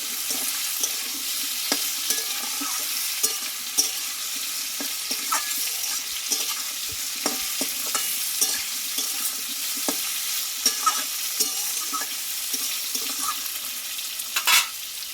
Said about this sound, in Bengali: এই তেলেই কিন্তু পটলটা পুরোপুরি একদম ভেজে নিতে হবে